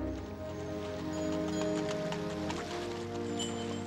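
Horse hooves clip-clopping at an even pace, a dense steady patter of clops over a humming musical background, moderately loud and without speech.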